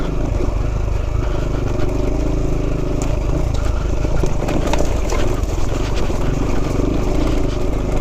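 A motorcycle with electric push-button start runs at a steady, close-up idle, its engine rumbling continuously with no voices over it.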